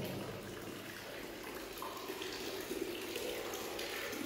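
Water gushes out of a wall inside an abandoned chocolate factory building, a steady hissing, splashing rush that is fairly close and continuous, with no talk.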